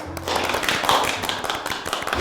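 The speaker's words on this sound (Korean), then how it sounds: "일단 박수 치고 갈게요" Hands clapping in a steady patter of quick, dense claps, close and moderately loud, with no talk over them.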